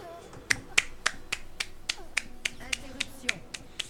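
Sharp finger snaps used as applause repeat in a steady rhythm, about a dozen crisp clicks spaced evenly apart, with faint background noise beneath.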